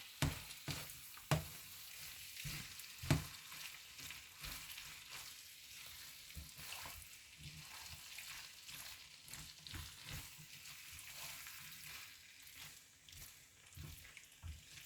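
A spoon works cheesy ham and broccoli pasta through its sauce in a hot pan, soft sticky squelches and a steady gentle sizzle continuing for several seconds, with a few sharper scrapes near the start.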